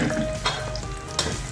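Onions frying in a hot pan for a moringa drumstick dish, with a dense, close, loud sizzle and two brief bursts of crackling.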